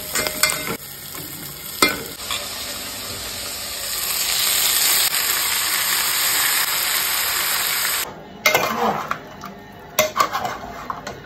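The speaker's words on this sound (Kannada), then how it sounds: "ಮಸಾಲ ರೆಡಿ ಆಂಡು ಇತ್ತೆ ಒಗ್ಗರಣೆ ಕೊಡ್ಗ ಚಿಕನ್ದು" Tempering sizzles loudly in a hot pan while chicken masala is made, a steady crackling fry that swells mid-clip, broken by sharp clinks and scrapes of a spoon against the pan near the start and end.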